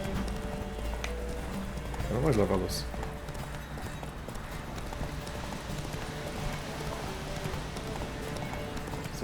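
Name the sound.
horse galloping in video game The Witcher 3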